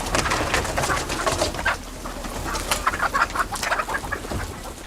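Hens cluck and a rooster calls amid busy barnyard chatter on a farm deep in the mountains, several birds close by, steady and continuous with no talking.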